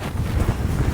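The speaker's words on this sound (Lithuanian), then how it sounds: "Visai geras oras. Tas vėjukas yra" A breeze gusts across the microphone on a forest wellness trail near Paliesius manor, producing a low, continuous rumble of wind buffeting close to the mic with no talking.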